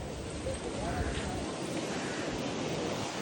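Sea waves roll in at Dadar beach in Mumbai, a soft continuous wash of surf with wind buffeting the microphone, moderately distant, with no talking.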